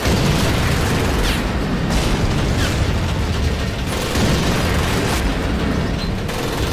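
A heavy gun booms and rumbles in Medal of Honor: Pacific Assault, a continuous loud, dense roar of blasts and mechanical clatter with no speech.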